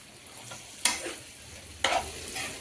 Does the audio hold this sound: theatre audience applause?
no